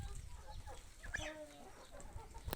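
Roosters kept for sale on a small farm, a brief crow or cluck heard faintly against a noisy outdoor background.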